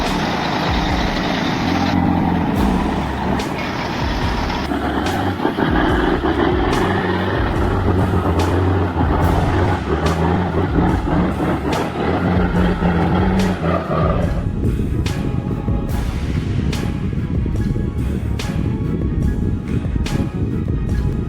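Big rig trucks rumbling off-road through mud and rough terrain, a loud continuous deep engine roar with revving surges, mechanical clanks and a shift in tone partway through.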